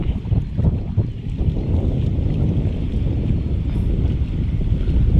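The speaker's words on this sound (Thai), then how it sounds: "ลมเริ่มมาแล้วครับ" Strong wind buffets the microphone outdoors during a snakehead fishing trip, a loud continuous rumble with no voices.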